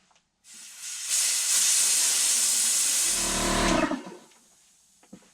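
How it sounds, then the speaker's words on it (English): A loud, steady hiss of compressed air from an air compressor nozzle blowing a magnet to spin it, lasting about three seconds, with a low whirring hum rising near the end before the air cuts off. "I'm going to take my air compressor and blow spin that magnet"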